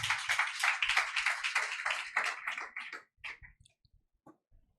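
Congregation at a Telugu church service clapping together, a dense burst of hand claps that thins out into a few scattered, fading claps.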